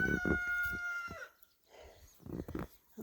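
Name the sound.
chickens and ducks in their coop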